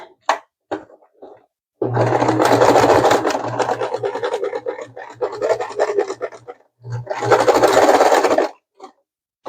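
A domestic sewing machine stitches close to the edge of a sunflower crossbody bag, running in two bursts, one long and one short, with a steady motor hum and rapid needle chatter, close and fairly loud.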